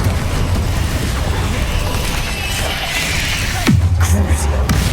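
Confringo fire spell blast in Hogwarts Legacy, a loud boom near the end that drops into a rumbling low tail, following a dense stretch of game noise.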